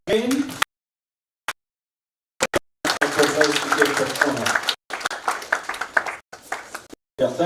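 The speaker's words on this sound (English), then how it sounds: "Let's applause him again." Audience applause at an international artificial intelligence conference opening ceremony, a sustained burst of clapping from a crowd after brief scattered claps, swelling and fading over several seconds.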